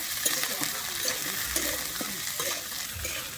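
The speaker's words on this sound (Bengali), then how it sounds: "আমি এরপর এখানে দিয়ে দিচ্ছি কেটে রাখা ফুলকপিগুলো আমি ফুলকপিটা দিয়েও কিন্তু এখানে খুব ভালোভাবে আবারও মিশিয়ে নেব" Cut cauliflower with carrot and beans stirred in hot oil for a Bengali mixed vegetable dal, quick irregular scraping strokes of a spatula over a soft continuous sizzle, close and alone.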